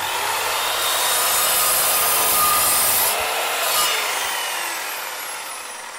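An Evolution mitre saw cuts through an ordinary wooden stud, its blade whining and rasping through the timber in one loud, continuous cut that tapers off at the end.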